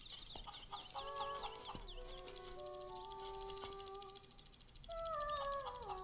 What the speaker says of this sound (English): I love the ticking sound of this weather vane rooster in the background